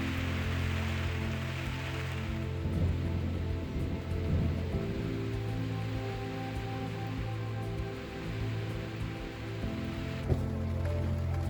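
Rain falling during a rainy day near Porto Alegre, a continuous soft hiss of drops on surfaces with occasional louder patters, steady and moderately distant throughout.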